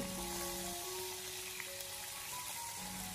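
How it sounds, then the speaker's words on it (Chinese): Duck skin pan-frying while being turned over, a quiet even sizzle with a faint hum of tones in the background, continuous for a few seconds without speech. "我们在煎制的过程中，不停的将鸭子来回的翻动，让鸭皮均匀的上色。"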